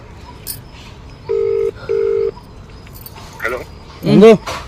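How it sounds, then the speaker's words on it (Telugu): A phone call connects with two short, even electronic ringing tones. A dog yelps and whimpers nearby, with a louder bark-like cry at the end. "రింగ్ వచ్చింది, రింగ్ వచ్చింది"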